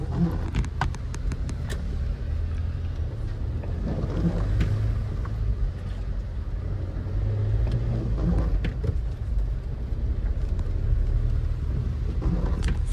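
A car driven by a first-time driver during a Ganpati visarjan outing produces a steady, low engine rumble throughout. A few faint clicks and knocks sit on top of the rumble, and no one speaks.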